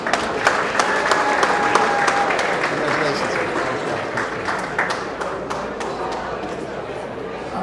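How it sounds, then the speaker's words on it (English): A round of audience applause for AHEPA at the annual Hermes Expo awards ceremony, with dense crisp hand claps and a few louder individual claps up front, sustained throughout, with faint crowd chatter underneath. "A round of applause for AHEPA,"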